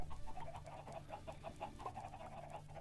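Chickens in the video game Minecraft cluck in a quick, irregular run of soft clucks, faint and steady throughout with no talk over them.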